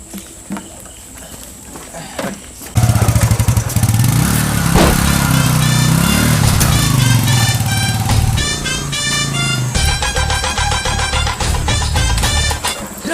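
A motorcycle engine revs and runs loudly nearby, its pitch rising and falling as it moves, with rough mechanical rattling.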